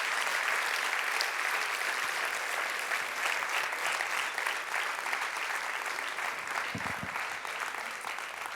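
An audience at the POPRI 2025 closing ceremony applauds the finalists, with sustained dense clapping from a large crowd that holds steady and loud for several seconds.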